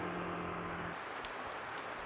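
Light rain falls in Bali, a soft, even hiss of drops that stays faint and steady, with no voices.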